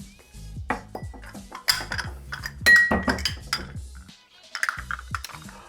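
A lemon is pressed in a hand squeezer: a run of metallic clinks, clacks and rattles, close and irregular, then a short pause before a few more knocks.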